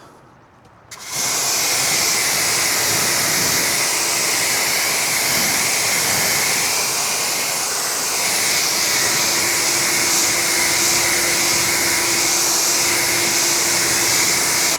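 Water sprays steadily onto a car finished with a C6 Ceramics Hydro Lite coating, a continuous loud rushing hiss that starts abruptly and runs unbroken to the end.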